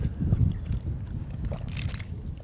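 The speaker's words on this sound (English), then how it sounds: "Here comes the wind." Gusts of wind buffet the microphone in uneven low rumbles over about two seconds, loud and close with no one speaking.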